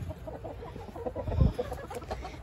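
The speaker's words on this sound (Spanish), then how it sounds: "Esta gallina araucana tiene una habilidad que ella se le escapa a uno por cualquier ladito." An Araucana hen clucking close by in a backyard henhouse, a run of soft, rapid clucks with a brief louder low thump midway, no talking.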